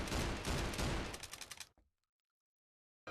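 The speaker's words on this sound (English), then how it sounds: "you can pull the trigger as many times as you want" A rapid burst of repeated gunfire from a shooter weapon in a video game, loud and dense for under two seconds, then cut off into silence with a brief sound at the very end.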